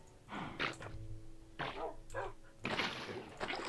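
Minecraft dog whimpering and yipping in a few short bursts, close and fairly loud over game background noise.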